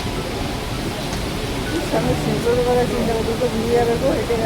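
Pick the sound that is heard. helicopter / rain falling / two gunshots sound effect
rain falling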